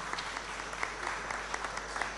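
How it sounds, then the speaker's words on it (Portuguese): Steady studio audience applause on a television show in Angola, an even patter of many hands clapping at moderate volume throughout. "agora sim, os aplausos merecidos."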